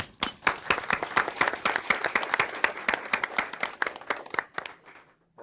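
Applause at a county board of commissioners meeting, a modest group of people clapping in distinct, sharp claps for several seconds before stopping abruptly.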